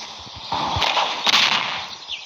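A burst of rapid soldier gunfire in a block-building war mod game crackles through a busy game soundscape, with sharp cracks peaking in the middle and fading toward the end.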